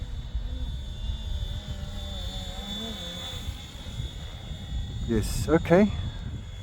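A Flywing H-Ace scale RC helicopter descending, its rotor and motor whine steady and close, with someone briefly speaking over it near the end.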